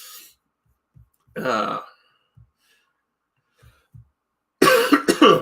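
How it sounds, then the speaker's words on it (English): A raspy cough bursts out near the mic, then after a few quiet clicks a louder cluster of coughs follows. "I'm suddenly coughing"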